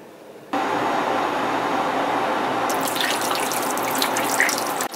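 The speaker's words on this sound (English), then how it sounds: "filling up some water." Water running from a household tap to fill up a drink, a steady rushing stream that starts abruptly after a brief quiet moment and continues close and even, with a slight splashing rise partway through.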